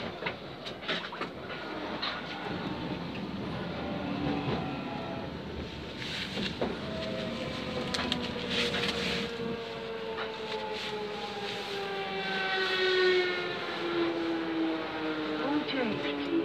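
A 1996 tube stock Jubilee line train runs between Canning Town and Stratford, heard from inside as a steady rumble with rail clatter and a long, high, falling motor whine, loud and continuous throughout.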